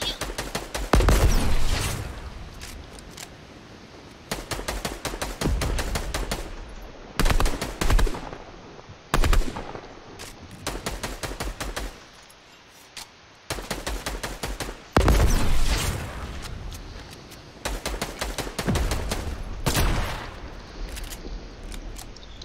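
Rapid bursts of automatic gunfire and heavy rocket-launcher blasts in the video game Fortnite, loud and close, coming in repeated volleys separated by short pauses over the whole stretch.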